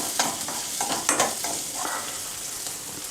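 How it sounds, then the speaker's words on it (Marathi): Garlic roasts until crispy in a pan for poha chivda, giving a steady close frying hiss with a few scraping stirs, loud and alone without any talk. "लसूण चांगला क्रिस्पी असा भाजून घ्या."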